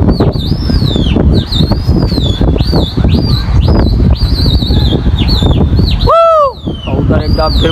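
Loud gusty wind with a pigeon's repeated wing flapping and high whistling chirps during pigeon flying; voices shout intermittently beneath it.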